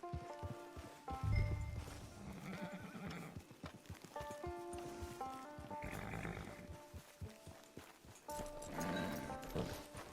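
Horses in the Red Dead Online video game whinny and neigh near and loud, with clip-clop hoofbeats and a musical score underneath, with no talking.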